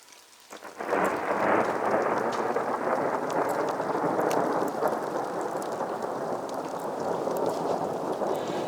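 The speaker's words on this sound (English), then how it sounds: "whoa, another lightning shot" A thunderstorm breaks in with a sudden roll of thunder, then heavy rain pours steadily in a dense, continuous hiss that stays close and full.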